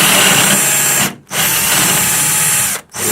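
A power drill runs loud and close while boring into a bathroom wall to mount a grab bar, whining steadily with two brief pauses where the trigger is released.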